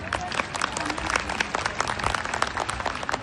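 Parents and audience applauding the teachers at a school annual day event at Uma Vidyalaya in Vadodara, dense sustained clapping from a large crowd, loud and continuous for a few seconds with no talk.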